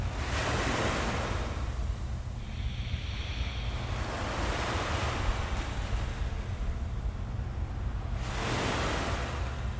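Ocean waves wash in continuously, a soft broad surf roar with gentle swells that rise near the start, middle and end, steady and moderately quiet, with no voices.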